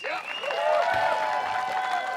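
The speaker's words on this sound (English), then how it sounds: "Please give a round of applause to Adam Hammes" Spectators at a disc golf tournament final in Des Moines clap for the leader, a soft spread of applause sitting beneath a clear, sustained voice that dominates the short stretch.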